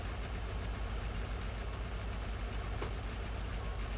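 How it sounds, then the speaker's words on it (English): Truck engine with a holed exhaust in Farming Simulator 19, a steady low rumble and idle-like drone held at even, fairly quiet level throughout, alone with no talk. "Sounds like I've got a bit of a hole coming up in the exhaust here"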